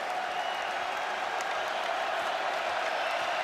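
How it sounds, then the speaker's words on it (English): College basketball crowd cheering near halftime as fans rise to their feet, a dense continuous roar of voices and clapping filling the arena, steady and moderately loud. "And the crowd on its feet."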